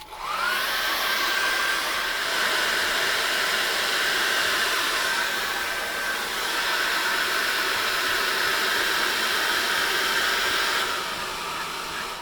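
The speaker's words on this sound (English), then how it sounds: "all I'm going to do is get a hairdryer on that." Hairdryer blowing steadily on wet acrylic paint of a winter landscape painting, a close, constant whooshing roar with a high whine, running alone for about ten seconds before the pitch shifts as it powers down.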